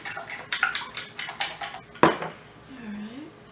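Eggs being whisked with a fork in a bowl for a blueberry custard pie: a quick, steady run of light metallic taps and clinks up close, ending in one sharper knock and a short quieter tail.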